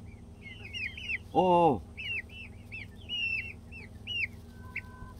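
White Silkie breeder chickens cluck and chirp in a busy run of short, high calls close by, with one louder drawn-out call midway and a brief human utterance.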